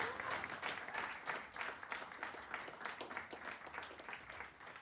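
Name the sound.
congregation applauding to acclaim the Lord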